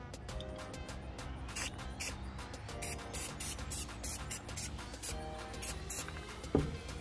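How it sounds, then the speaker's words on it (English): Short hissing bursts from a spray can, used as spray glue on Dollar Tree Christmas ornaments, come in repeated pulses of varying length indoors, fairly quiet, with a small knock near the end. "Glue together with my spray can, y'all."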